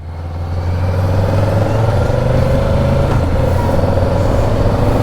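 A Kawasaki Z900 motorcycle engine in road mode builds from low to a loud, sustained drone as it accelerates, heard close and steady with a rising pitch.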